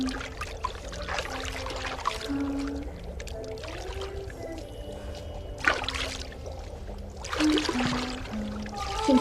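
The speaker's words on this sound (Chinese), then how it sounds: "姐姐给你冲水啊。" Water splashes and trickles as it is poured over a girl in a drama scene, arriving in several uneven bursts over a low watery background, fairly soft and close.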